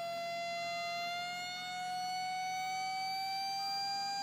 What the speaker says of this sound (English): You hear the oscillations when the voltage decreases.